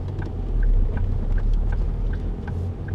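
A 2006 Ford Focus C-Max 1.8 TDCi 115 diesel engine accelerates with a loud, deep rumble and a clattering, regular tick over it, holding steady and close with no talking.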